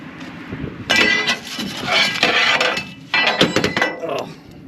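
Someone stirs a fire up close, making bursts of scraping, clattering and metallic clinks separated by short pauses.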